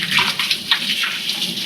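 Tap water runs in a home kitchen while hands are rinsed after peeling bananas, a brief, close, steady splashing gush with no voices over it.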